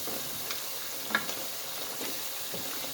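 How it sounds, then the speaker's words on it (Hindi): Spice masala with turmeric fries in a pan for a potato and eggplant curry, a faint, steady sizzle with a few light stirring clicks. "1 चम्मच हम इसमें हल्दी ऐड करेंगे और इसको भी अच्छी तरह मिक्स करके 2 से 3 मिनट भूनेंगे इस मसाले के अंदर"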